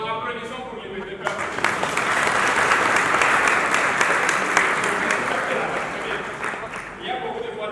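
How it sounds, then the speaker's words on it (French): Audience applause for doctors, a dense steady clapping that swells after a second and holds loud throughout, with some talk beneath it and fading toward the end. "Vraiment, applaudissons pour les médecins."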